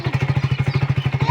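A motorcycle engine runs close by with a steady, rapid throbbing pulse, about ten beats a second, alone and fairly loud.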